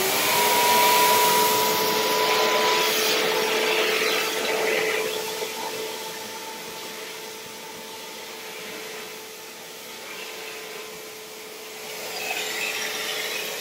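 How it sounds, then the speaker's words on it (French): Vacuum cleaner runs continuously indoors with a steady high whine and airy roar, loudness swelling and easing as it is pushed around, no voices present. "Bon, je vais aller passer l'aspirateur."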